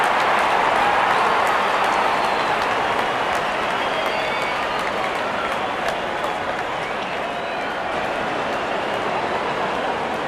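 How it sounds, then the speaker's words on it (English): A cricket stadium crowd cheers and roars steadily as the openers walk out, a dense, continuous wash of applause and shouting that stays loud throughout with no clear breaks. "the crowd cheering in anticipation"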